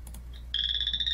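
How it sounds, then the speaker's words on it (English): A chorus frog calls in a flooded North Dakota prairie. After a quiet start, a loud, close, rapid trill of evenly pulsed notes runs steadily to the end, with no voices. "you'll be able to see the vocal sac of the chorus frog expand as it calls here"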